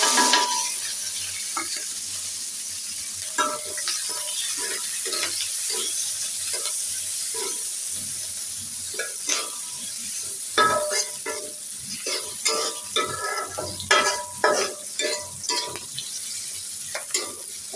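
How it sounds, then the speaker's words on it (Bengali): Chopped onion, green chili, garlic and dried chili fry in hot oil with a steady sizzle, punctuated by irregular scraping and clinking as the pan is stirred. "এই দেখো এখানে পেঁয়াজ মরিচ রসুন শুকনা মরিচ সব কেটে রেখেছি তেলের পর দিয়ে দিলাম"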